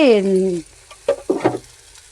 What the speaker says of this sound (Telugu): కారం పసుపు వేసిన తర్వాత ఎర్రగా వేగాలి.